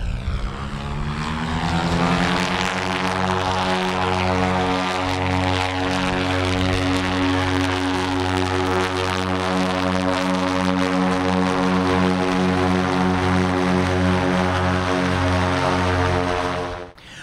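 Goodyear blimp engines roar up steadily as the airship takes off, a loud, sustained propeller drone with a rising whine that holds strong throughout, no talking.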